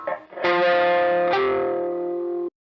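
Electric guitar chord with unmuted strings left ringing, from a riff: a distorted chord strikes, then a second strum sustains in a bright, buzzing wash before cutting off sharply, played alone.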